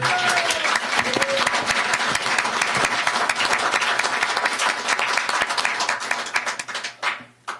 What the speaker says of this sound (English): if you're gonna clap, you gotta do it loud, or you not do it at all.